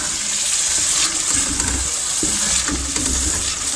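Egg and peas curry being stirred in a pan, a soft continuous sizzle with a few low scraping and bubbling stirs near the middle and end.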